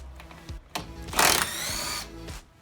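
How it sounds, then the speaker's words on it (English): A power driver backing out upper windshield Torx T40 bolts on a Jeep Wrangler, short whirring bursts with a louder sustained buzz in the middle, close up and without talk. "we're going to remove the two upper windshield bolts. These are T40s and these are Torx."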